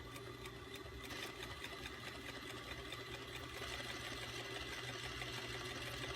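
A home sewing machine stitches stretch binding onto fabric with a steady, rapid mechanical whirr and fast needle chatter, continuous and close, without speech over it.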